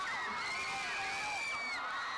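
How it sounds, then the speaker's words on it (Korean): Fans, many of them screaming like teenage girls, cheer and shriek together in a sustained high-pitched roar as stars arrive at a film festival after a long wait in the cold, loud and continuous. "추위도잊은채기다리던스타가도착할때마다그들은10대소녀들처럼환호합니다"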